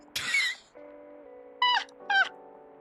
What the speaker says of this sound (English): Just cats doing cat things.